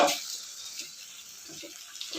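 Tap water runs over red-stemmed amaranth greens being washed in a kitchen, a soft, steady trickle with small splashes and faint handling noises.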